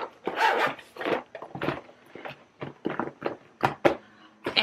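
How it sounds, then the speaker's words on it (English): A travel makeup bag is zipped shut with a series of short rasping pulls. The bursts come in an uneven rhythm and sound close and clear, with no speech. "Let's go ahead and zip this side."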